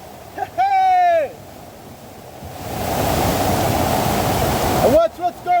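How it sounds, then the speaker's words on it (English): Floodwater rushes through a backyard in a broad, steady roar that builds and holds, with a person's voice shouting before and after. "In the back here, there's a whole heap of water. And the water's crazy."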